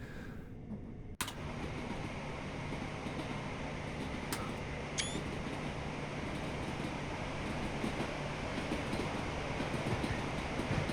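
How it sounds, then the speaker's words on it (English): Trains rumble through the busy London Victoria station in Train Sim World 2, a steady loud rolling roar with a sustained tone, broken by a sharp clank and a few brief squeals. "Look how many trains there are."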